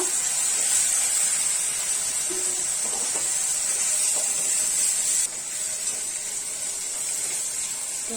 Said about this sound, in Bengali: এখন দিয়ে দিব সামান্য পানি মশলা কষানোর জন্য।